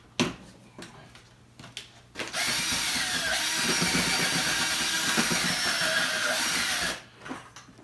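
A power drill with a mixing paddle churns pollen patty mixture in a container, running as a loud, steady whir for about five seconds between brief scrapes and knocks.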